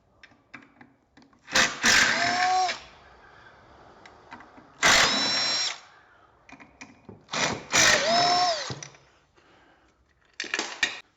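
Power tool, likely an impact driver, removing bolts from the housing of a 216 lb generator, firing in several short loud whirring bursts separated by pauses with small metallic handling noises.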